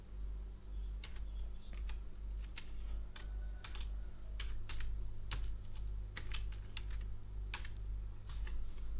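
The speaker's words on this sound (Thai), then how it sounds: "พิมพ์ไปนะครับเหมาะสำหรับ ที่จะพิมพ์ภาษาอังกฤษนะครับพิมพ์ภาษาอังกฤษ" Fingers type on a computer keyboard in quick irregular bursts of close, crisp key clicks over a low background hum, with no voices.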